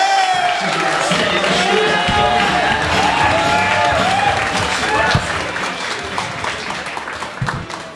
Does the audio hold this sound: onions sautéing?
no